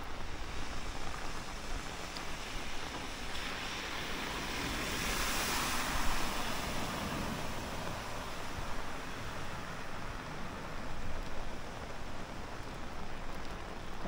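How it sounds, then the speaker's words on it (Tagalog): Strong floodwater rushes along the side of a road in Bacolod, Philippines after heavy rains at night, a steady loud broadband roar with slight surges and wind buffeting. "Kung makikita nyo, lakas ng agos ng tubig dito sa may gilid ng kalsada."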